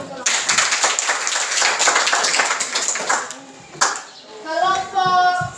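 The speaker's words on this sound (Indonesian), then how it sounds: "tepuk tangan dulu untuk kelompok" Classroom applause for a student group, a few seconds of quick, moderately loud clapping by students that fades out as a voice and other talk follow.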